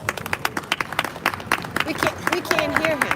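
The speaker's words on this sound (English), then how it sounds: "big round of applause" Audience applauding at the opening of a museum of African art in Brooklyn, a burst of scattered hand claps that thickens into steady clapping, with murmured voices underneath.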